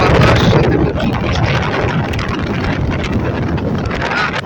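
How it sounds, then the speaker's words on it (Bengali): Strong gusting wind with heavy rain in Dhaka during Cyclone Remal, a loud, dense, continuous roar buffeting the microphone with no pause. "এখন বাতাসের চাপ সাথে প্রচুর বৃষ্টি শব্দ শুনতে পাচ্ছ"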